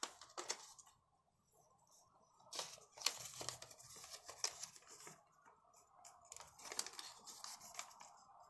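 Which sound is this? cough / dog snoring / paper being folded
paper being folded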